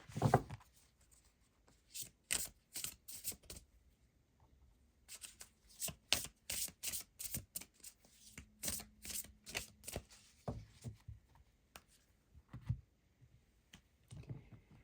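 Seasons of the Witch Samhain Oracle cards are shuffled by hand, quick papery riffles and taps in irregular bursts with short pauses, close and quiet.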